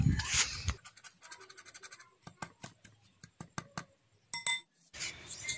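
A hand whisk mixing ghee in a bowl while making rasmalai, heard as a run of quick scraping clinks of metal against the bowl, then a short pause and a brief rustle.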